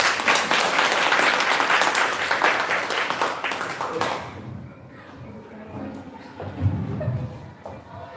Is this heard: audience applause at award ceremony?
yes